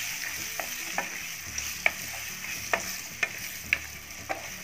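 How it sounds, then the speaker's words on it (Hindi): Pieces of raw green mango frying in a pan over a low flame, a steady soft sizzle broken by sharp clicks and scrapes of stirring at irregular intervals, close and alone. "हमारी केरी उठाकर डाल देंगे इसमें, यानी अमिया, इसको फ्राई करेंगे हम करीब 2 मिनट लो फ्लेम पर"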